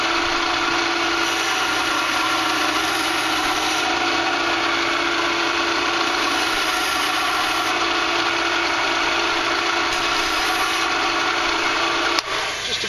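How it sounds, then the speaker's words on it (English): A power sander works the rough sound hole area of a handmade hardwood Native American flute, giving a steady, loud, continuous whirring drone that holds without pause until a brief bump near the end. "Go ahead and sand that a little bit."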